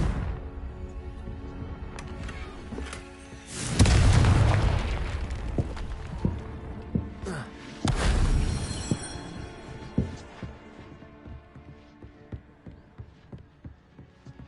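Confringo fire spell bursting in Hogwarts Legacy, a loud booming blast that swells near the start and hits again midway, trailing off into scattered smaller pops and crackles.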